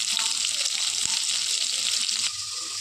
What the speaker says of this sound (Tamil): இதுல ரெண்டு தக்காளி ஒரு நாலு பச்சை மிளகாய் சேர்த்து இந்த கொஞ்சமா உப்பு சேர்த்து வதக்கிக்கலாம்